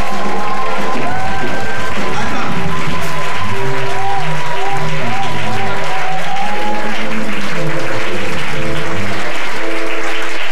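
A church congregation applauds steadily and loudly throughout, with cheers and voices mixed in, as singing and music carry along over the clapping.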